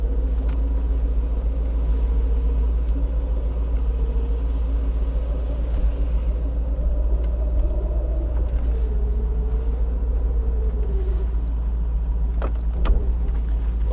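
A 1973 Mercedes 450SL with automatic transmission idles as it backs out of a shop, giving a steady, close, low engine rumble for the whole stretch, with a few faint clicks near the end.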